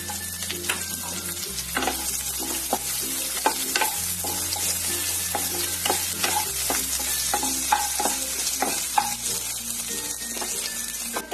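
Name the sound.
chopped onions frying in oil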